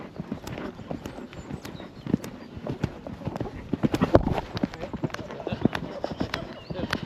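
Horse hooves clip-clop in an irregular, steady rhythm throughout, with people talking over them in the background.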